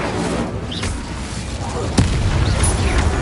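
An Incendio fire spell cast in Hogwarts Legacy gives one sharp burst about two-thirds of the way through, standing out over a steady game background.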